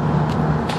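A six-speed manual car underway, giving a steady low engine and road drone at close range that holds evenly through the short moment with no voices.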